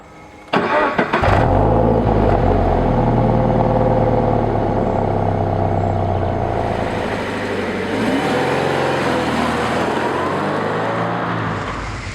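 A Subaru BRZ sports coupe fitted with narrow tyres starts up with a sharp burst, then its engine runs loud and close, revving and pulling as it drives along the road, with no talking.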